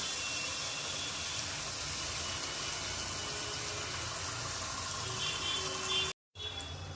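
Butter and oil sizzling in a pan: a steady, even hiss that holds for about six seconds, cuts out briefly, then comes back, with no talk.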